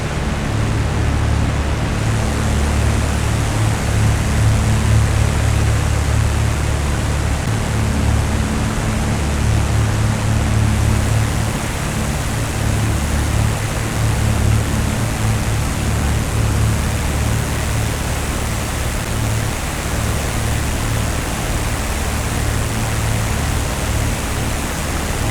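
Steady, loud droning roar of Avro Lancaster bomber engines during a flyby over a cathedral in a VR flight simulator, a continuous low rumble with no letup.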